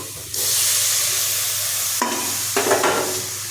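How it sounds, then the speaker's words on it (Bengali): Banana flower is tipped into spices frying in a pan and stirred, setting off a loud, sudden hiss of sizzling followed by a few scraping stirs, close by. "মশলা কষানো হয়ে গেছে, এবার মোচাটা এর মধ্যে দিয়ে দেব।"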